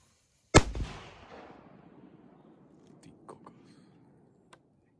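A TP2 Exploder 2 firework goes off with a single sharp, loud bang, followed by a long fading rumble and a few faint crackles and pops in the distance.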